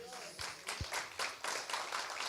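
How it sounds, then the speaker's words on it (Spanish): A church congregation claps during a Spanish-language sermon, quiet rippling bursts of applause rising and falling over a few seconds, with speech mixed in at a distance. "Denle un aplauso al Señor."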